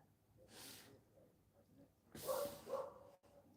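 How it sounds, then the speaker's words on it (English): Dogs barking a short distance away, one brief bark followed by a louder double bark, fairly faint against a quiet background. "Dogs barking"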